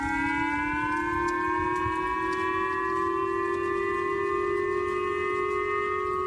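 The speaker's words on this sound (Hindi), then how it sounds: "और किम के बैलिस्टिक मिसाइल दागते ही जापान में खतरे का सायरन बज उठा।" Japanese civil defense warning siren sounding after a North Korean missile launch, a loud steady wail with several harmonic tones slowly rising in pitch, continuous and alone with no voices.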